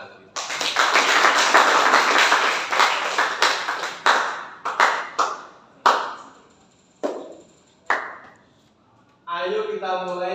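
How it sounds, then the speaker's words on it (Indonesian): An audience bursts into dense clapping that thins out into scattered single claps and stops, followed by a voice speaking briefly at the end. "Tepuk tangan."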